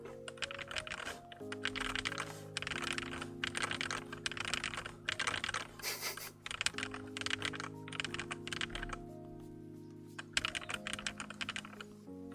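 Soft, clicky keystrokes on a new computer keyboard while playing TETR.IO, a steady rapid patter of close key presses with brief pauses between bursts.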